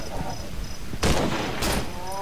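Rifle shots ring out in the horror video game Cry of Fear during a co-op forest level, two sharp loud bursts about half a second apart over low background ambience.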